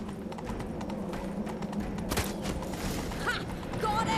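Hooves clip-clop steadily under a loud, dense game soundscape as a horse gallops in The Witcher 3: Wild Hunt, with creaks and a brief whinny-like rise near the end.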